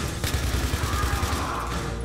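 Gunfire in Battlefield 3 co-op: a quick run of low, thudding shots in steady rhythm, heard at moderate distance beneath a sustained background tone.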